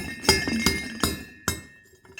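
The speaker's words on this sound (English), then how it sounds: "I'm going to do a couple of knocks." Someone knocks a gold pan holding sandstone material to settle the gold, four sharp metallic knocks spaced roughly half a second apart, close and distinct.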